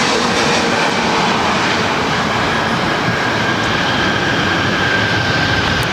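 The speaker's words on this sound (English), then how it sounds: "this is American Airlines 1889 coming in from Las Vegas on an A321neo." An American Airlines A321neo arriving from Las Vegas lands on runway 24 right at LAX: a steady, loud, broadband jet roar holds through the whole stretch, with no break and no talk.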